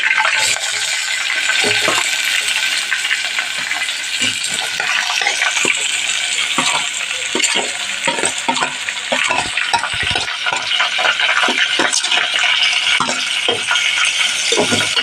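Curry leaves and green chillies hit hot oil with mustard seeds in a pan while cooking a jackfruit-seed curry. A loud, close, continuous sizzle and crackle carries sporadic pops and stirring clicks throughout.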